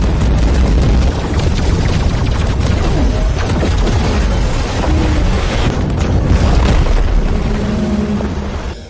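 Continuous heavy booming of coastal cannon fire, dense overlapping blasts with rumbling roar, loud and sustained throughout.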